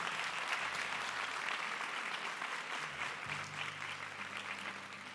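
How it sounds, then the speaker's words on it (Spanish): Steady applause from a church congregation during an evening worship service, a dense sustained patter with a low hum underneath, continuing evenly without talk. "Dale fuertes aplausos al Señor."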